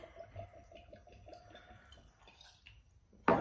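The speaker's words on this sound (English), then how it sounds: "Now we're gonna pour." Wray & Nephew overproof rum pours into a glass in soft, rhythmic glugs and drips, faint and close, ending in a brief louder clink or splash.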